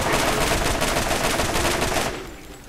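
Rapid automatic assault-rifle fire in the Borderlands video game, a loud, dense burst of shots that cuts off after about two seconds, with nothing after it.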